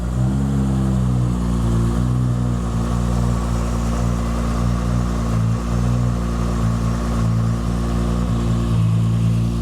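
A 1700-horsepower 2JZ engine in a Dart-built Supra runs on its first start, holding a rough, burbling idle with a few light rev blips, steady and close with no talking.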